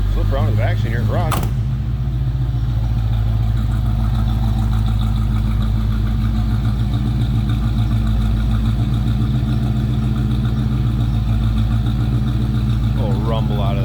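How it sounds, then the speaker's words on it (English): A 1980 Chevrolet C10 Stepside street rod with a TPI 350 V8 idles with a steady, deep exhaust rumble heard from behind the truck, close and constant, with a brief knock or door-like thump near the start. "A little rumble out of that V8."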